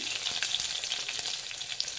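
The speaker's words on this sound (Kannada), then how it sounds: "ಒಂದು ಸ್ವಲ್ಪ ಬೆಳ್ಳುಳ್ಳಿ ಹಾಕ್ತಾ ಇದ್ದೀನಿ." Garlic sizzles steadily in hot oil with mustard seeds and curry leaves for a quick tomato rasam, a close, dense, crackling fry that carries on without a break.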